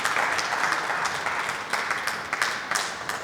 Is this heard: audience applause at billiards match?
yes